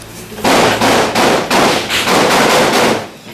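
Gunfire during a drug-enforcement raid shootout among tightly packed houses: a rapid series of about eight loud, sharp bursts in steady succession, close and dominating, with no talk.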